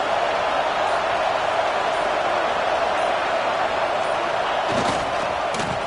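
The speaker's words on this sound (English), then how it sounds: "And wow, listen to this crowd noise. This stadium is vibrating." A packed stadium crowd in a college football video game, Arkansas, roars as a steady, dense wash of noise, with a couple of sharp thumps near the end.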